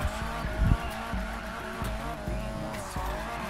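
A BMW M3 drifting in a racing video game, its engine droning steadily while tire squeal and skidding run underneath, with a brief louder thump early on.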